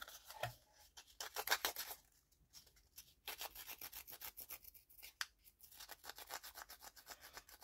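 Paper for a page collage being scraped with a hand tool: bursts of rapid, rasping strokes, close and fairly loud, with short pauses between passes and no talking.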